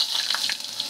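Capers frying in hot oil, a dense bright crackling sizzle with small popping bursts, steady and close for a second, no talking.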